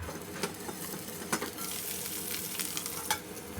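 Green chillies fry in a pan for a spicy cucumber chutney, a continuous crackling sizzle broken by a few sharp scrapes and clicks of stirring, close and without talk.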